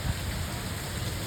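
Heavy rain pours down in a dense, even hiss, close and constant through a brief stretch, with no voices.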